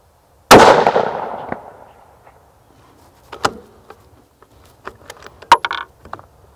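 A single sharp, loud shot from a Mossberg MPV Light Chassis rifle on a range, ringing out and decaying, followed by a few faint clicks and small knocks.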